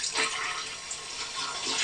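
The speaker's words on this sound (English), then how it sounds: "See, that's how you flush the toilet on a boat." A boat's marine toilet is flushed by working a hand lever back and forth, giving a short, faint rush and slosh of water heard close up with no voices.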